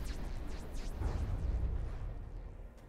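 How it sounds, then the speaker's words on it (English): Deep rumbling blasts and booming explosions in the airship combat game From the Depths, a sustained low roar that swells in the middle and fades toward the end, with no talk over it. "Explosions everywhere."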